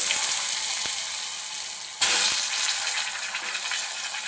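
Potatoes drop into hot oil in a wok already holding bay leaf, dried chilli and five-spice seeds, setting off a loud, steady sizzle that flares up sharply partway through and keeps crackling.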